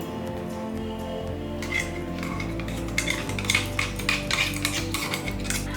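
A melted mixture is poured from a pan into a metal pot. A spoon scrapes and clinks against the metal in quick, loud bursts, busiest in the second half, over a low background hum.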